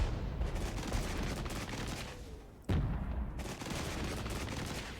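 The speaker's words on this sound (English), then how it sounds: "That's a lot of artillery coming in." Artillery fire in the Regiments military strategy game keeps up a dense, continuous barrage of booms and crackling explosions with a heavy impact midway, loud and unbroken with no talking.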